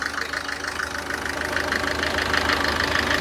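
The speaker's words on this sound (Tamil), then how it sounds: "ஒரே ட்ராப்பாக இன்ஜின் பாரு ஓடிக்கிட்டு இருக்குல்ல" A car engine idles steadily nearby, a low continuous rumble with a faint rhythmic ticking over it and no voices.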